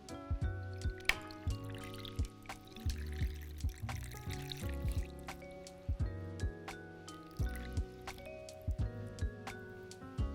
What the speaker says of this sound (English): I'll go ahead and just do a normal strained pour